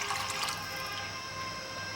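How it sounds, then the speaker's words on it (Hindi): About two cups of water poured into a finished Bengali-style rohu fish curry masala to turn it into gravy, a steady close splashing and running-water rush lasting the full two seconds with no talk. "हम हल्का सा पानी डाल देते हैं,"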